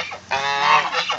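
Geese honk loudly and repeatedly while playing in a backyard lawn sprinkler, a close, harsh burst of overlapping calls with no talking.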